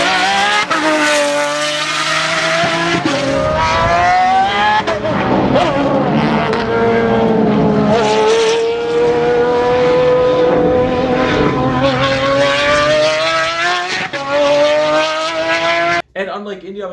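Pagani Zonda R track car with a 6-liter naturally aspirated V12, screaming loudly as it revs up and shifts through gears with rising and falling pitch, close and continuous before cutting off abruptly.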